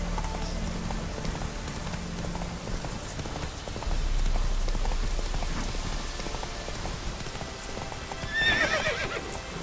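Hooves clip-clop steadily as a horse runs in The Witcher 3: Wild Hunt, over a constant rain-like wash of game ambience, with a brief whinny near the end.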